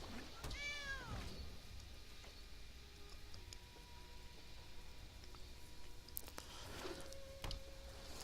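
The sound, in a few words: cat meow from a kitty card in MTG Arena video game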